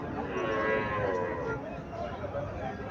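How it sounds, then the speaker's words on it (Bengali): A Sahiwal cow moos in a long, drawn-out call on a farm, steady and fairly close, with faint voices murmuring in the background. "এখানে আর একটা শাহিওয়াল জাতের গাভী দেখা যাচ্ছে।"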